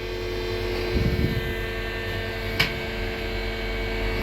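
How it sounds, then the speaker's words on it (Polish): A steady mechanical hum and whir of a small elevator in motion in a Warsaw apartment building, with a brief rattle and a sharp click partway through. "Mamba, teraz jedziemy drugą windą"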